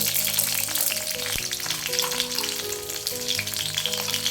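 Mustard seeds, urad dal, dried and green chillies and ginger fry in hot oil in a kadai, a steady loud sizzle with crackling pops throughout, no voices.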